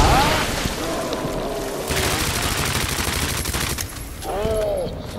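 Rapid bursts of gunfire from Resident Evil 2 on PS4, dense booming shots running over game noise, with creature groans rising at the start and end.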